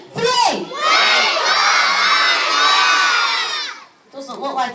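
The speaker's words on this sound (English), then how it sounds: "After 3, I want us to shout, wake up, Anya." A large crowd of children yells loudly in unison at a sea lion show at a zoo, a sustained burst of shouting lasting a few seconds, followed by scattered excited voices.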